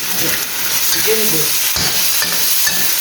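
Chicken sizzles loudly in a pan as a utensil stirs it, giving a steady frying hiss broken by a few scraping strokes.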